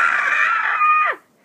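A single loud, sustained scream from a character, held steady for about a second before cutting off sharply, with a brief new burst at the end.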